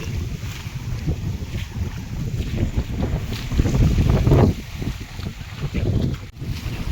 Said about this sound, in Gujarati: પવન છે પવન છે